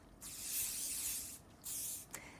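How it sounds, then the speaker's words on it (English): Hairspray from an aerosol can is sprayed onto a curly updo in two close, loud hissing bursts, a long one and then a shorter one, ending with a faint click. "you're going to finish with a bit of hairspray to hold it all in place"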